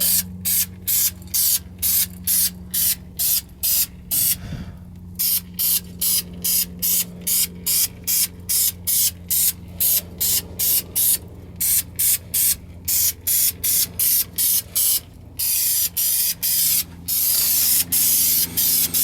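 Protective undercoating sprayed onto a car's undercarriage for winter protection, heard as close, loud hissing bursts in a steady rapid rhythm of short on-off pulses, running continuously with no talk.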